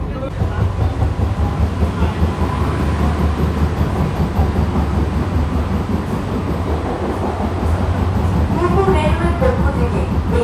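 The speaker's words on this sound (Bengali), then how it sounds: "আমার ট্রেন এসছে কল্যাণী রেলওয়ে স্টেশনের এক নাম প্ল্যাটফর্মে" An air-conditioned local train arrives at platform one of Kalyani railway station in West Bengal, a loud, continuous rumble and clatter of wheels and carriages lasting throughout, with faint voices from the platform mixed in.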